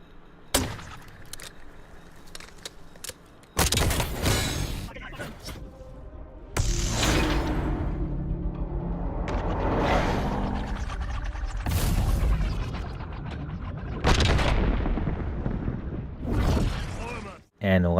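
Launcher firing from a jump in Black Ops 6 on the firing range, with loud booming blasts and explosions. Several heavy bursts arrive at intervals over a sustained rumbling game soundscape, close and prominent.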